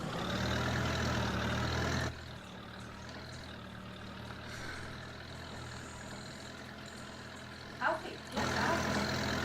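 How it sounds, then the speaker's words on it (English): A Minneapolis Moline tractor engine idles in Farming Simulator 22, a loud low hum that drops away after two seconds, stays faint, then returns at full strength near the end. "Ooh, I like the sound of that engine."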